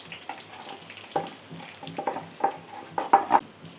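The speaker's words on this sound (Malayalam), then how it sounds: "ഇനി ഇതിലോട്ട് നമുക്ക് തേങ്ങ ഇട്ടൊന്ന് ഫ്രൈ ചെയ്തെടുക്കാം" Grated coconut stir-fried in a pan for chicken chammanthi podi, with soft scraping stirs and a light sizzle recurring in uneven strokes, close and fairly quiet.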